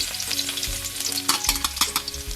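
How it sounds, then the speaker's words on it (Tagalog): Garlic sizzles in about two tablespoons of hot cooking oil for a pork caldereta, crackling loud and close while a utensil scrapes and stirs it in the pan. "Lagay na natin yung bawang."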